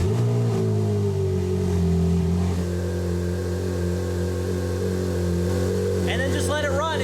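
A Ferrari engine runs at a steady idle during an oil and filter change, a loud continuous drone with layered harmonic hum and a brief higher sweep near the end.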